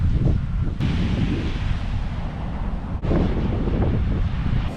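Wind buffets the microphone over rolling waves at a beach in Bali, a steady broad roar with a couple of brief dropouts and no speech.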